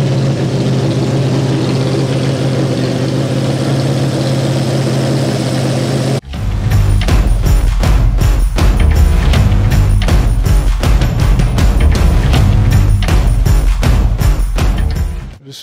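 The 3-litre engine of an Alfa Romeo Montreal Gruppe 4 race car idles loudly with a deep hum, then abruptly snaps into a harsh, rapid-firing roar that stays loud and close before cutting off.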